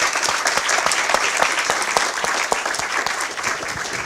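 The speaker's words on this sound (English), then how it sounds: "So I think we conclude with a warm applause" An audience at the close of a university lecture breaks into sustained applause, a dense, steady patter of many hands clapping for several seconds with no break.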